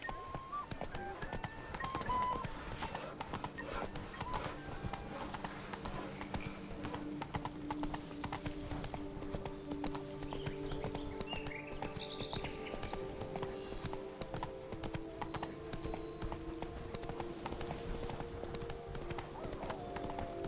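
Roach, Geralt's horse in The Witcher 3, trots with a steady, rhythmic clip-clop of hooves that carries on throughout, under a faint musical backdrop and occasional soft voice.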